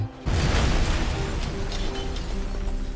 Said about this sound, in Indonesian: mendorong bola api itu kembali pada Dracula, yang seketika membuatnya meledak menembus tembok kastil